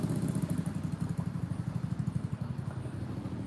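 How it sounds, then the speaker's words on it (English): A motorcycle engine rumbles steadily nearby as the rider slows to park, a low, even idle-like chug that runs throughout, fairly loud and unbroken, with no voices over it. "If he don't get out of here on his motorcycle, yo,"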